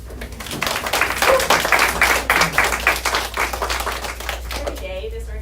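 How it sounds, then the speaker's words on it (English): A round of applause ripples through a small audience at a maternal health roundtable. The clapping is brisk, dense and close, lasts a few seconds, then thins into scattered claps and murmuring. "Can we have a round of applause for her?"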